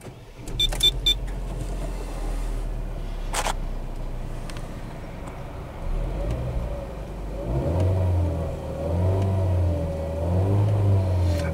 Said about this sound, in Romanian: o să ridic capota și o să vedem cum sună motorul și sub capotă, pe gaz și pe benzină